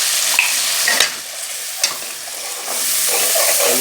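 Spices with salt, red chili and turmeric fry in a hot pan, giving a bright steady sizzle broken by scraping stirs and a few sharp spoon knocks, close and loud with no talking.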